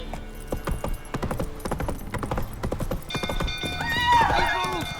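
Horse hooves clip-clop in a steady galloping rhythm in The Witcher 3: Wild Hunt, with a horse whinnying and squealing near the end over busy game background sound.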